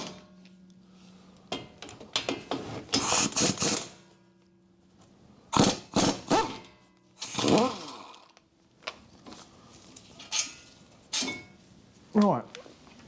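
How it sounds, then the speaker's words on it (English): An impact gun undoes 16mm front brake caliper carrier bolts on a 2013 Mini Cooper D 1.6 diesel, with several loud rattling bursts between pauses and a person talking nearby. "There are two 16mm bolts there, which I'll see if I can undo with the gun if it'll fit in there."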